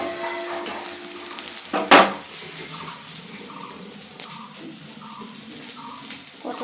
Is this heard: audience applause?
no